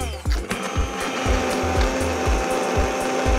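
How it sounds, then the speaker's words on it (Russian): An immersion blender whirs steadily, blending corn soup right in the pot, while rhythmic chopping thuds repeat underneath, close and fairly loud, with no talking. "уже и воспользоваться блендером. Вот так вот я прямо возьму кукурузный суп и забью"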